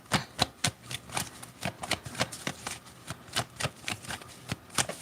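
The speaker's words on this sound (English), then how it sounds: "Let me get two more shuffles here." Tarot cards being shuffled in quick, rhythmic riffling bursts, crisp and close, repeating steadily with no talking.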